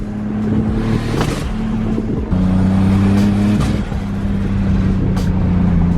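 A BMW M3 engine runs loud and close, holding steady revs near 4,000 RPM with a couple of brief dips and rises, a strong droning exhaust note and no voices.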